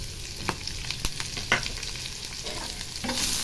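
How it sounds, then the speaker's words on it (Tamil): Oil sizzles in a pan as something fries, a continuous hiss punctuated by a few sharp scrapes and clinks of stirring. "எண்ணெய் ஊற்றி இது லைட்டாக இதை எண்ணெயில் ஃப்ரை பண்ணிடலாம்."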